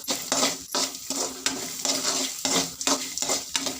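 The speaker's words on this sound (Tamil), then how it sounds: "தேவையான அளவு சால்ட் உப்பு சேர்த்துக்கலாம் இதையும் போட்டு நல்லா கிளறி விட்டுறலாம்" A spoon stirs salt into a mango rice mixture in a pan, scraping in repeated rhythmic strokes over a soft sizzle, with no one speaking.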